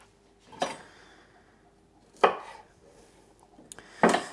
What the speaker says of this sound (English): The bigger pieces I'm just going to cut in half so they're bite size.